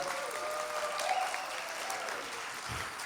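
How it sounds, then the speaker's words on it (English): Steady, dense applause from a powwow audience after a dance performance fills the whole stretch, continuous clapping with faint crowd murmur beneath. "how about giving these dancers another round of applause, folks?"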